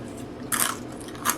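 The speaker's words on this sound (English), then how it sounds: "I love the crunchy tortilla strips." Biting into a salad of lettuce with crunchy tortilla strips, steak and cotija: two sharp, close crunches, one long and one short, with no talking.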